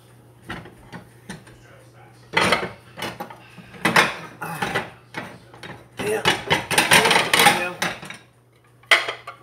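Plates and dishes handled in a home kitchen while food is served, with repeated clattering, clinking and knocking of crockery and cutlery in bursts, close and fairly loud, and voices speak at times over the clatter.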